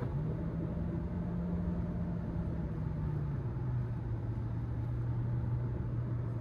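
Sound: car engine

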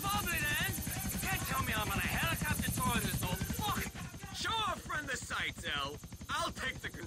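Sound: helicopter flying, from the video game GTA IV

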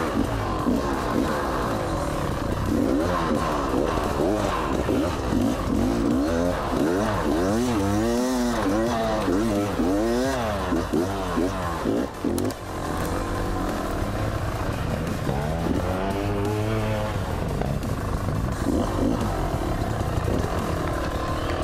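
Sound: cross trainer motorcycle hill climb on forest trail, revving

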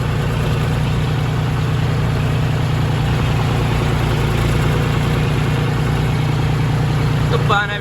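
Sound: tractor engine idling

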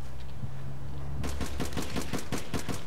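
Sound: gunfire from the video game APB Reloaded

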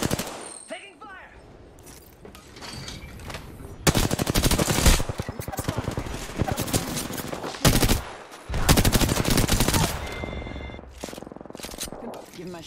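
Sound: gunfire in the video game Apex Legends

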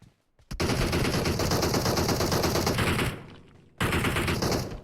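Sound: gunfire from a video game (PUBG Mobile)

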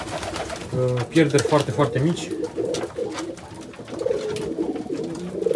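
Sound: pigeons cooing in an aviary

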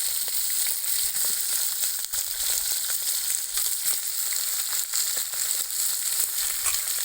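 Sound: cut chicken sautéing in a pan with curry leaves

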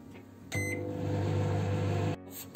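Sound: microwave oven heating food

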